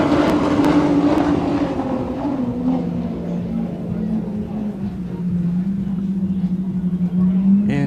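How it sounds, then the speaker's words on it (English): Offshore racing powerboat engines of the Dubai Police team warm up at the UIM XCAT World Championship in Dubai, a steady droning rumble that rises in pitch toward the end, heard under a commentator's voice. "Dubai Police warming up those engines."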